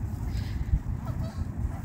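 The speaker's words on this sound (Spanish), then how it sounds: "Y por acá están los chicos, los patos más grandecitos." Ducks at a park pond, the bigger young ones, honk and quack in a busy overlapping cluster at moderate distance, with a steady low rumble beneath the calls.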